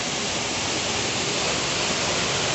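A waterfall near the Siya Devi temple in Balod, Chhattisgarh, running low on water, gives a steady, dense roar of falling water that fills the whole clip at an even, loud level with no talk.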